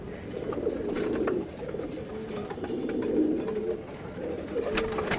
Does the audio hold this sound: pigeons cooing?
yes